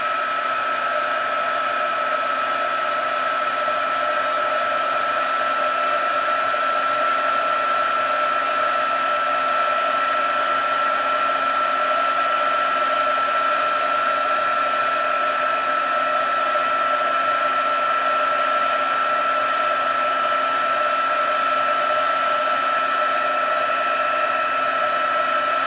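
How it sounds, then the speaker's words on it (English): A heat gun runs while warming up, giving a loud, steady whine with a constant airflow hiss that holds unchanged throughout, with no voices. "it's a good idea to warm up your heat gun"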